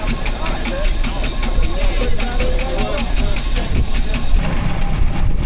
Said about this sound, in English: As the engine at the far end of the field pulls the plough back, this one just idles and waits for its next turn.